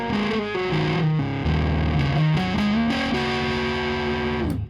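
Heavily distorted electric guitar plays Phrygian-flavored pentatonic phrases, a quick run of distinct, loud, sustained notes that shift pitch and then stop abruptly.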